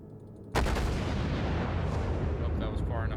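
Heavy battleship main guns fire in World of Warships, USS New York and IJN Kongo engaging: one sudden deep blast opens into a long rumbling roar that stays loud and sustained, with faint game effects near the end.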